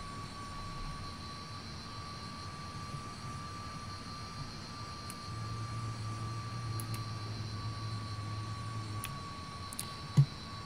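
Jet engines of a Comet airliner idling in FSX while taxiing after landing at Heraklion, a steady low hum and whine with a high tone, fairly quiet and constant, with a brief click near the end.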